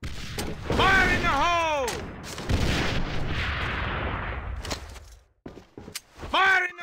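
Grenade blast and gunfire in a team shooter game: a booming explosion with rumbling decay and several sharp shots, heard under a shouting voice.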